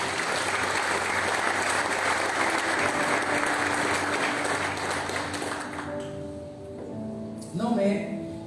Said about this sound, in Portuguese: Você pode aplaudir o Senhor mais uma vez?